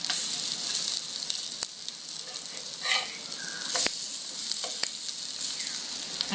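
Cold rice pitha fries in a pan, a steady bright sizzle with a few sharp pops and light clicks, close and continuous with no talking.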